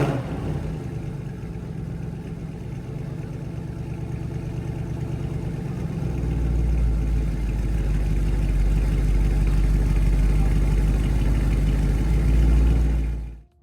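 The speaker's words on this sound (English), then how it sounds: "the real magic begins the moment you start the button" A Mercedes SL63 with an AMG V8 starts up, its engine rumbling steadily and close by, then drops into a deep, heavy idle that deepens and swells in the low end partway through before stopping abruptly; no voices are heard.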